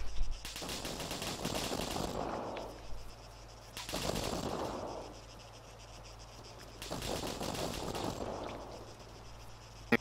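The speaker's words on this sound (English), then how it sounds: "Machine gun, eh?" Machine gun fire in a video game, three long sustained bursts of rapid automatic shots separated by short pauses, loud and continuous over a low ambient hum, with no talk.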